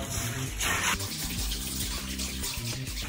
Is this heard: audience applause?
no